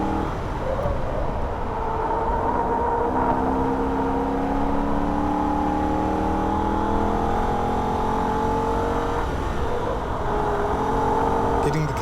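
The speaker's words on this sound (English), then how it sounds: "back into third gear, turn the car in and go back to wide open throttle for a brief moment" A Holden VF Ute's engine held at wide open throttle on the Nürburgring, a steady loud drone with rising and falling engine tones running unbroken through the whole stretch, heard from inside the car.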